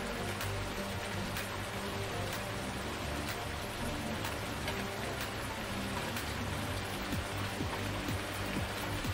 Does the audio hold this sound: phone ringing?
no